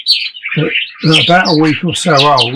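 Border canary chirps heard alongside someone talking, high thin tweets overlapping his voice throughout, near and fairly loud.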